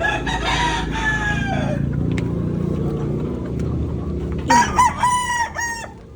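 Gamecock roosters crow loudly and close, one long crow at the start and another near the end, with a steady low rumble of a vehicle or engine underneath.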